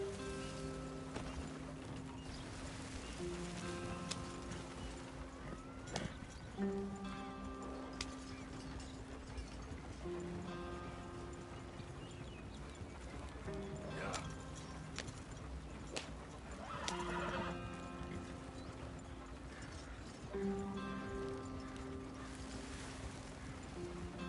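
Horses in Red Dead Redemption 2 clip-clop along a track with occasional neighs and whinnies, set against a continuous mechanical rumble and brief voices, moderately loud throughout.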